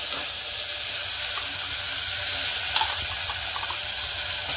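Hot oil tempering with ground spice masala, asafoetida and garlic sizzles in a constant loud hiss while it is stirred, with a few faint scrapes, for a mixed sprouted-bean usal.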